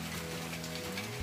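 Heavy rain from a downpour falls outside a house patio, a soft, continuous hiss with a low hum underneath.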